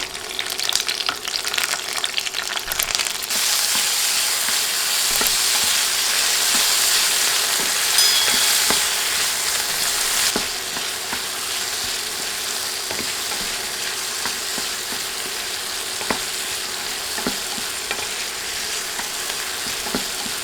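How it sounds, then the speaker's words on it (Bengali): Chopped onion and tomato stir-fry in hot oil on high heat, giving a loud, steady sizzle with occasional clinks and scrapes from constant stirring, close up and without talk. "এখন অনবরত নেড়ে তেলে ভেজে নিচ্ছি হাই হিটে ভাজতে হবে এগুলো"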